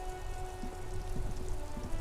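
Rain falls steadily in the video game Disco Elysium, a soft, continuous patter and hiss of drops with no break across the moment.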